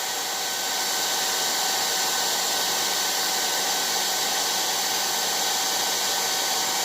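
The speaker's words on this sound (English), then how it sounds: "you take the heat gun again" A heat gun blows hot air in a steady, loud, continuous broadband roar, with a faint hum beneath it, running unbroken for the whole stretch while work is done on talon grips.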